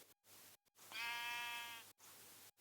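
Sheep in the video game Minecraft gives one clear bleat, a short wavering tonal cry near and loud against quiet gaps, with no talk.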